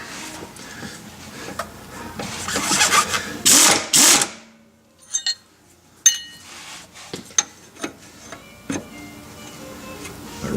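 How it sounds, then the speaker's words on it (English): A wrench works on a wheel bearing adjustment, giving close, irregular metallic clicks and clanks after a burst of busy mechanical noise, with pauses between sharp taps. "A wrench on there."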